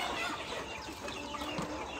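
Chickens cluck on a poultry farm, a busy overlapping flock chatter close by and continuous, with a steady background hum underneath.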